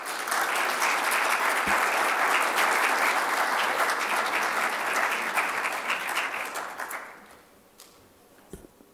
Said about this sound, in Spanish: Muy bien, aplausos para la embajadora